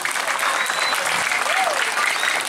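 Steady, dense audience applause fills a Balinese Calonarang temple performance at Pura Penyimpenan Masceti, Banjar Anggar, holding at an even level throughout with a hint of crowd voices mixed in.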